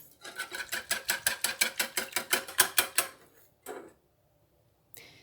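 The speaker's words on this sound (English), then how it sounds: "I'm going to put just a few drops of orange extract in here and whisk that in." A whisk beats a few drops of orange extract into a bread-dough mixture for pan de muerto in a bowl, a rapid run of about fifteen even, clattering strokes that stop, followed by a couple of isolated knocks.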